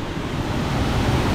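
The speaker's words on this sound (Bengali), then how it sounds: "এই সামনে পিটিডিডি ওয়াটারফলস" Fast monsoon-season water pours down Pitidiri waterfall in Purulia, a steady broadband rush and roar that fills the whole moment without a break, loud and close, with no voices.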